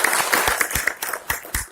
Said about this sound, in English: So please join me to welcome Professor Tok with a big applause.